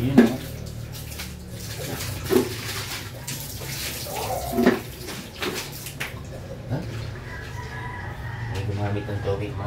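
Water splashes and runs while a chicken feeder is rinsed clean in a backyard, a fairly soft continuous flow with a few louder splashes, under someone talking.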